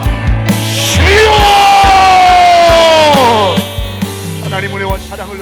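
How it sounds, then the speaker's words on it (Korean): A church congregation at a Korean Sunday worship service cries out 'Lord' together in a loud, sustained unison shout, then breaks into a clamor of overlapping voices praying aloud. "주여 한번 외치고 통성으로 기도합니다."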